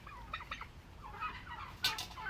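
Turkeys squaring off against chickens in a farmyard fight give a run of gobbling and warbling calls, moderately near, with a louder burst toward the end.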